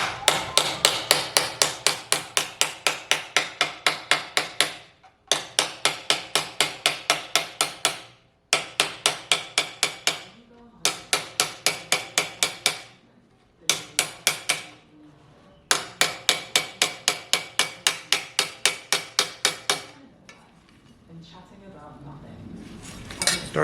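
Rapid metallic hammer strikes on car body sheet metal of a 1955 Chevy Handyman wagon ring out in long bursts of steady, evenly spaced blows, pausing briefly between runs, close and bright.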